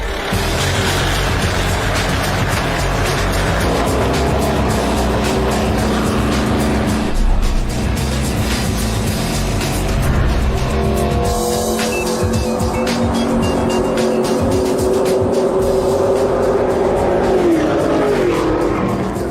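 Race cars run laps on a circuit, engines roaring loud and continuous as they pass, slowing for the corners with tire squeal, under a steady wash of track noise.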